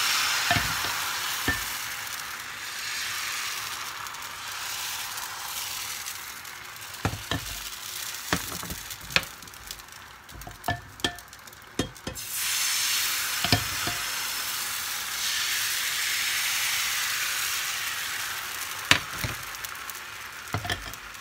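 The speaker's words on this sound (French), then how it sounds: "Nous allons commencer à faire cuire nos crêpes." Savory stuffed crepes made without eggs or milk sizzle steadily in two frying pans, a continuous hiss with scattered sharp clicks and scrapes of a utensil, swelling louder partway through.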